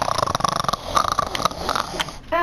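A person snorts and snuffles over and over in short, rough nasal bursts that sit close to the microphone, with light game sounds in the background.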